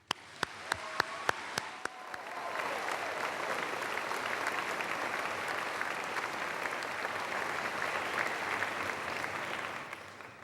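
A graduation ceremony audience applauds teachers. A few sharp single claps come first, then sustained, even applause from a large crowd fills the room for around eight seconds and fades slightly at the end.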